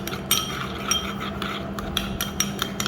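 A spoon clinks against a bowl while lemon sauce is mixed, giving several sharp, fairly close metallic taps at an uneven rhythm over a quiet background.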